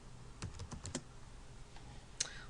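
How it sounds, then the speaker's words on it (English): Quick, faint taps on a computer keyboard, a short run of keystrokes followed by one sharper click in a quiet room. "we're going to go ahead and type in bacteremia"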